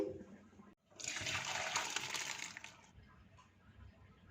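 Water from boiled macaroni pours through a strainer in a kitchen as a brief rushing, splashing gush. It starts suddenly, lasts about two seconds, then trails off into quiet drips.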